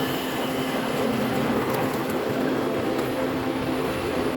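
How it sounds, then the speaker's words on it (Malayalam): A Chennai Egmore to Mangaluru passenger train rolls past near Palakkad as a steady, loud rumble of wheels and cars, with a faint high squeal running through it and no voices. "ചെന്നൈ എഗ്മോർ എന്ന് മംഗളൂരിലേക്ക് പോകുന്ന ട്രെയിനാണ് കേട്ടോ ഈ പോകുന്നത്"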